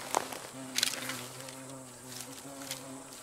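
A metal detector gives a faint, steady humming tone over a strange target while someone digs for old relics, with light scraping and rustling on top.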